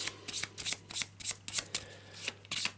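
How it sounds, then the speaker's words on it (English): Cards from a board game deck being shuffled back together, a series of quick riffling bursts in an irregular rhythm, close and fairly quiet, with a steady low hum underneath. "Right, let's put all this back in."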